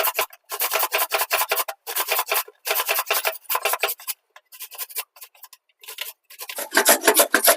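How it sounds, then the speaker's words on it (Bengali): Carrots are being rubbed against a hand grater for gajar halwa, close, crisp rasping strokes in a steady back-and-forth rhythm with brief pauses between bursts. "আমি কেমন করে গাজরটা ঘষে নিচ্ছি"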